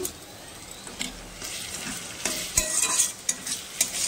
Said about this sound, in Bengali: পেঁয়াজগুলো ভাজা ভাজা হয়ে গেছে, এবার বাটা মশলাটা আমি দিয়ে দিলাম।